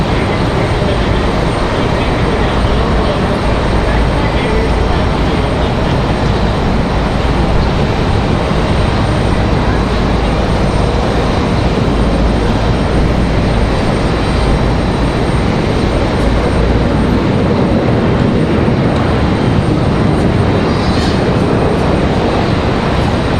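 An Endeavor CRJ regional jet arriving from LaGuardia at Raleigh-Durham airport gives a loud, steady broadband roar that holds for the whole stretch, with a deep rumble underneath and no talking.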